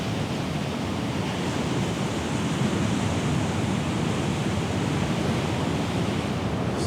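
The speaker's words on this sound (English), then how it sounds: "It is rumbling Kern, and it's certainly rumbling today" Rough sea waves rumble against the rocky shore at Rumbling Kern, a steady, dense roar of surf and spray with no breaks, loud and continuous throughout, with no voices.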